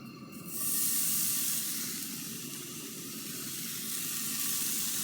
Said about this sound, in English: I'm gonna get my skillet out. I'm gonna cook the rest of that bacon right here.